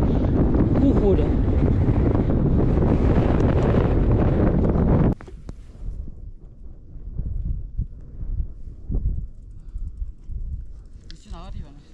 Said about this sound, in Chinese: 这一出来，这个风好大，